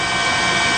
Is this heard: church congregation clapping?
no